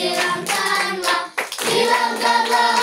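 Rhythmic hand claps keep time along with a sung Indonesian worship song at a children's fellowship gathering, loud and continuous with a brief dip partway through, blended with the singing and music.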